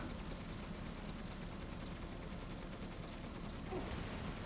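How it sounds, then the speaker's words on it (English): Infinite machine gun firing in Resident Evil Village during the Heisenberg fight: a steady, dense, unbroken rattle of rapid fire at constant loudness for the whole stretch. "you have infinite machine gun, so you don't have to worry about that needing to reload or anything"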